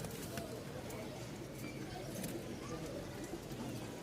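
Danish pigeons on a pigeon farm give soft, low cooing calls amid a busy, rustling room tone, with scattered faint clicks and higher chirps; fairly quiet and close, no clear speech.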